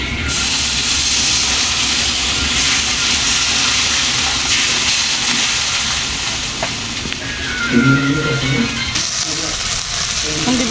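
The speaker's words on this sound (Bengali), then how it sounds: "এখন আমি পানি দিয়ে দেবো" Water poured into a hot pan for a rohu (katla) fish curry with onion and green chilli sets off a loud, steady broadband hiss of steam and sizzling that runs continuously throughout, with faint sounds of a person in the background.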